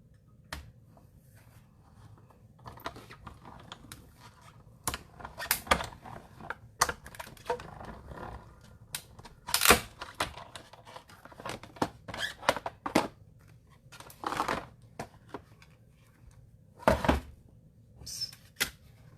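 Scissors cutting out a paper card piece, irregular crisp snips and rustles of paper, close by and fairly quiet over a soft background hush.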